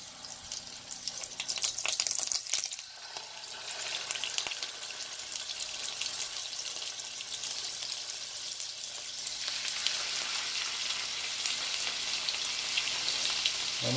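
Frozen wild caught cod fillets frying in a pan, a steady close sizzle and crackle that grows slightly louder over time, with a few light clicks of handling.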